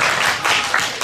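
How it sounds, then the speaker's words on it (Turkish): Children and adults at a birthday party applaud a child, a loud, dense burst of clapping that fills the whole moment. "bir alkış alalım arkadaşımıza"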